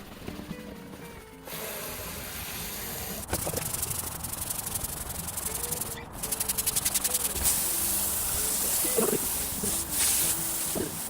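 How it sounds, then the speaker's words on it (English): Heavy scrubbing of moss and grime off an old 60-year-old boat, a continuous harsh rubbing and brushing hiss with steady rhythmic strokes, close, without talking. "Lots of moss and grime had accumulated over the years, and just a heavy scrub was enough to significantly improve its appearance."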